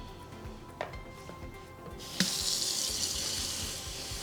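A tap is turned on and water runs steadily into a sink to wet kinky straight clip-in hair extensions, a soft hiss starting after a couple of handling knocks and continuing alone.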